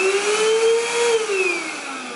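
A Novete VT-DH001 handheld vacuum cleaner runs with a loud steady motor whine, its pitch rising slightly and then sagging as it winds down, close up with no talk.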